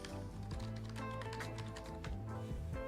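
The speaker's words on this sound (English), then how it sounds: "this keyboard's much quieter" Quiet computer keyboard being typed on at a desk, a steady run of soft, close key clicks and taps continuing throughout over a low background hum.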